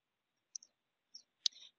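A computer mouse clicking: a few quiet, separate clicks with a slightly louder final click, in an otherwise near-silent room.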